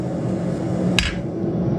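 A single sharp hammer strike rings out on a hot nail being forged, a bright metallic clang standing alone over steady background noise in a smithy.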